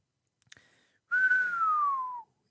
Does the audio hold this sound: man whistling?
yes